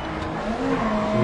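A race car in the racing game Grid Legends, its engine droning and revving with tire squeal as it spins off the track, loud and continuous with no talk.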